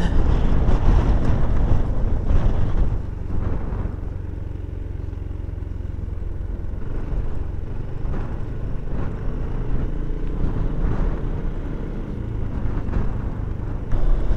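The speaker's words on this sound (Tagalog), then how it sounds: "Lakas ng hangin." Strong wind roars and buffets the microphone on a scenic mountain road ride from Baler to Bongabon near Labi River, a constant heavy rumble with gusty surges throughout, no talking.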